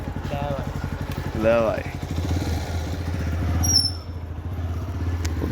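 A motorcycle engine runs steadily close by, its low idling rumble continuing throughout while someone speaks briefly over it.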